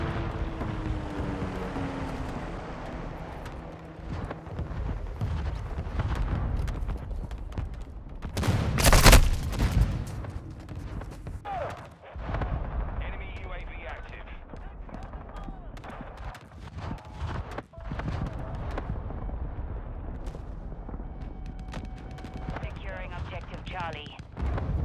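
Airstrike explosions and gunfire in a ground war match of a military shooter video game: continuous rattling shots, a big blast around the middle, further bursts, with radio voice callouts over the combat.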